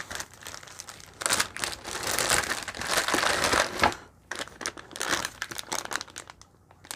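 Plastic packaging crinkles and crunches as Team Corally Kronos RC car parts are unwrapped, in close bursts of rustling that stop briefly and then return as lighter, scattered crackles.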